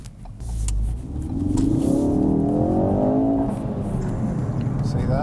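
A Mk3 Ford Focus RS accelerates hard, the engine note climbing steadily in a loud, close, continuous rev with rising whine that holds for several seconds before easing slightly, with voice sounds faintly under it.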